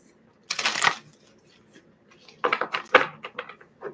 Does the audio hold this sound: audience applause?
no